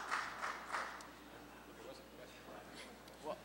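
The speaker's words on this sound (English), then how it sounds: "the number of claps you heard is about the number of Oregonians that are receptive to that idea" Sparse applause from a small audience at a public forum on Oregon's initiative system: a few quick clusters of claps near the start, then a scattering of faint, isolated claps that trail off.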